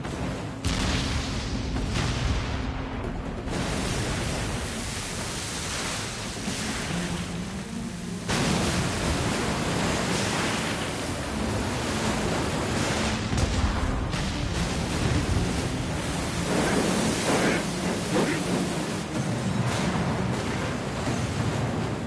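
Ship cannons firing in a pirate naval battle, heavy booms and rumbling volleys over the wash of open sea, loud and continuous, with no talking.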